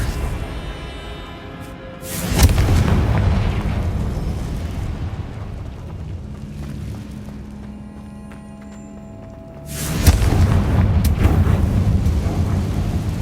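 Two heavy, rumbling blasts from the Confringo spell in the video game Hogwarts Legacy, each booming in loudly and then decaying into a long roar, with a quieter stretch of game ambience between them.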